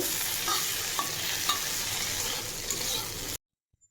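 Okra frying in oil is stirred with a steady, close sizzle and a few light scraping strokes, then the sound stops abruptly into near silence for the last half second.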